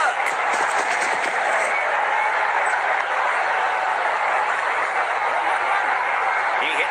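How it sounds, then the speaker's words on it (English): A packed crowd at an India versus New Zealand one-day cricket match in 2023 roars without letup, a dense, loud wash of cheering that holds steady for several seconds. "The crowd's gone berserk."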